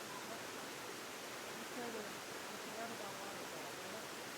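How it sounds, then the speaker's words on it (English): Steady broadband roar of a waterfall in a valley full of waterfalls, a constant even rush with no breaks, moderately distant and fairly quiet. "just above us is a waterfall"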